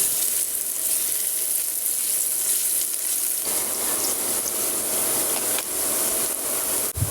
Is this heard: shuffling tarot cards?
no